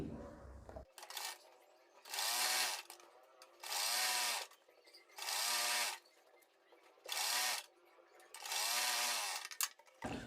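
A sewing machine runs straight seams of half-inch pintucks on a collared kurti, with five loud, close bursts of rapid stitching separated by short quiet pauses.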